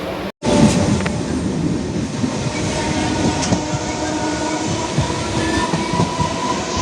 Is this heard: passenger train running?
yes